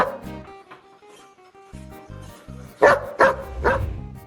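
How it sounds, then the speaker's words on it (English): A few close dog barks and yips, with three sharp louder barks near the end over a repeating musical pattern. "a bark, then a pause, then another bark?"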